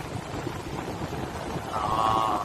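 Sea waves wash onto a shore in a steady broadband rush that swells louder near the end, with wind noise buffeting the microphone.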